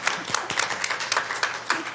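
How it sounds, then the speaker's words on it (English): A small audience at a public library board meeting claps, with separate hand claps audible in a brief, fairly sparse round of applause. "A round of applause for David."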